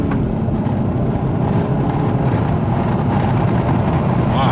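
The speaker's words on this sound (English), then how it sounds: "I'm surprised how smooth the transmission and the engine just feel, like a turbine engine" A 2023 Nissan Altima SR VC-Turbo with about 20,000 miles accelerates, giving a steady, smooth, turbine-like engine drone with broad road and wind noise from inside the cabin, loud and continuous with no talking.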